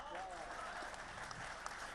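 Faint audience applause at a patriotic Hindi poetry gathering, the Sahitya Aaj Tak 2025 kavi sammelan: soft, continuous clapping spread evenly through a large hall and heard at a distance.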